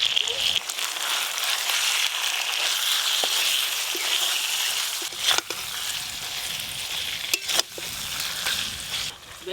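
Fried eggplant goes into a simmering curry made with yogurt, and a steady close hiss of oil sizzling runs throughout, broken by a few sharp clicks and clatters near the end.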